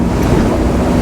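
Small waves lap and slosh around a 2011 Chris-Craft 28 Corsair Heritage Edition boat on open water, a brief, loud, even wash with wind noise.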